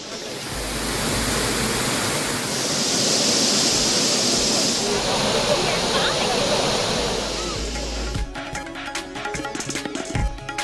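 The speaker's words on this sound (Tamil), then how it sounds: "தொடர் மழையால் குற்றால அருவிகளில் நீர்வரத்து அதிகரிப்பு" Courtallam waterfalls swollen by continuous rain, a loud, steady roaring rush of falling water that holds constant for several seconds before the sound changes near the end.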